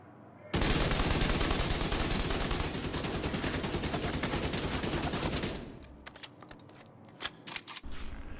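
An AKM rifle in the shooter game Division 2 unloads a long, loud, steady full-auto burst of about five seconds, followed by echoing tail and a few sharp mechanical clacks.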